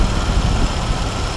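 A car engine idles steadily during an A/C refrigerant recharge, a continuous low rumble with no talk over it.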